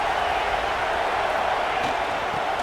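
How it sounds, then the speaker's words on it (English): Stadium crowd in a college football video game, a dense, steady roar holding at one level throughout without pauses. "This crowd trying to make life miserable for this offense."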